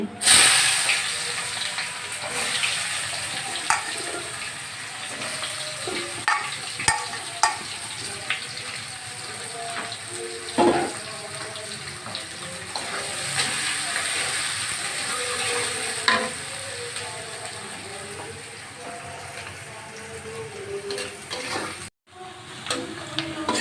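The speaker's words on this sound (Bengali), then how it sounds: "আমি পেঁয়াজটা ব্রাউন কালার করে ভেজে নিয়েছি" Chopped onion frying in oil alongside bay leaf, a continuous hissing sizzle with intermittent scrapes and taps of a stirring spoon in the pan, steady and close with a brief dropout near the end.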